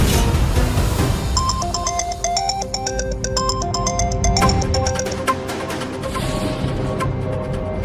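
A telephone ringtone plays a bright repeating electronic melody, loud and close, running for several seconds before fading out.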